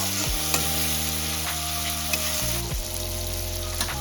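Loitta fish and tomato are stirred in a frying pan, with a steady close-up sizzle and scraping strokes, while sustained tones hum underneath.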